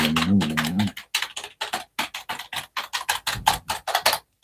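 Computer keyboard keys clack in a quick, irregular run of distinct close-up taps, heard alone after a brief murmur at the start.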